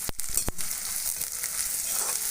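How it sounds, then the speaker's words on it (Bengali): Chopped onions hitting hot white oil in a wok for bharta, two sharp bursts at the start giving way to a dense, steady hissing sizzle, close and fairly loud, no voices. "তেল গরম হয়ে গেছে, এবার পেঁয়াজগুলি কুচি ডেলে দিয়ে দিব ভর্তা করার জন্য"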